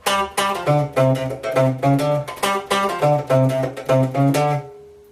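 Unmuted guitar notes strummed and left ringing, each chord sustaining into the next in a steady pattern, close and clear.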